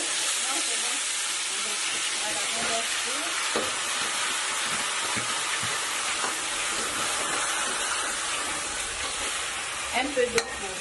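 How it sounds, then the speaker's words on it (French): Fish frying in hot oil for a sauce, giving a steady dense sizzle with bubbling and stirring all the way through and a few louder spits near the end. "Notre huile chauffe déjà. Nous allons mettre le poisson."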